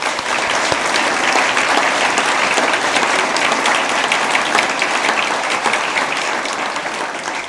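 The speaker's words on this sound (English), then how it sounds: "Please let's give them a round of applause." Audience applause at a school junior prize-giving ceremony, a dense, steady wash of many hands clapping that stays loud and even for the whole stretch, with no voices over it.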